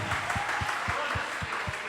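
A church congregation claps loudly and rhythmically in unison, a steady beat of about four claps per second over a wash of crowd noise.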